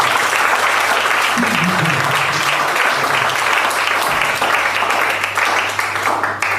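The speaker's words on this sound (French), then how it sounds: "Est-ce qu'on peut applaudir pour ça?" Sustained audience applause fills a hall at a French-language goal-setting seminar, dense and steady from start to finish over a low background hum.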